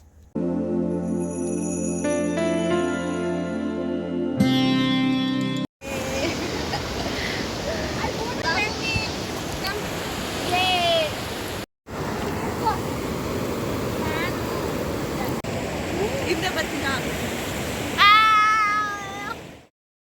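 Water flowing at a scenic countryside spot on a trip to Kaarekura, a steady broadband rush that follows a short music intro, with chirping animal calls and possible voices mixed in.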